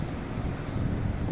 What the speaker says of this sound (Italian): Ah, c'è un sacco di vento. Ah, qua è una strada ventosa.